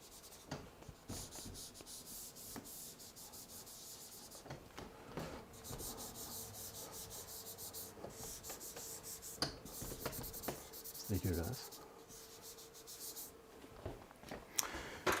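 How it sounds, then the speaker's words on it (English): Paper being erased, soft rapid rubbing strokes in bursts with brief pauses, faint and close, no voices. "I can erase that"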